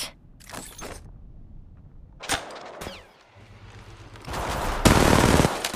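Gunfire in Apex Legends Mobile: rapid bursts of automatic weapon shots in short volleys with gaps of quiet, ending in a louder sustained blast of fire and impacts.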